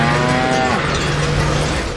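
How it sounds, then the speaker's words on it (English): A cow moos in one long, loud, drawn-out call that fills the whole two seconds, close and alone with no talk over it. "What? A cow?"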